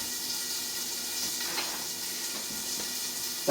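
A sirloin steak sizzles gently in a pan at lower heat, a soft, steady hiss with faint crackles and pops continuing throughout, close by and without talk.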